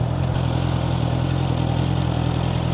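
A Honda CBR four-cylinder motorcycle engine idles with a steady, even, close hum and a faint mechanical clatter, running alone without pause.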